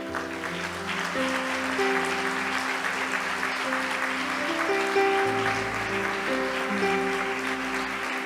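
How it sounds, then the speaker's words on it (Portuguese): A church congregation applauds during a worship service, steady clapping under sustained organ or keyboard chords and music. "eu quero que a igreja aplaude o Senhor pela vida de vocês"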